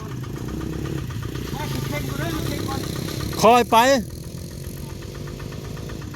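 A walking tractor engine idles with a steady low chug, while voices talk and call out loudly over it, as people push a vehicle that slid into a canal on a rain-slick road.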